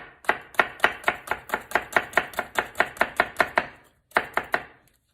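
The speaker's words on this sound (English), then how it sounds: "I do a couple horizontal incisions, kind of 3/4 of the way through" A knife chops rapidly on a cutting board while mincing an onion, about twenty crisp, evenly spaced strikes, then a short pause and a few more. The sound is close and alone.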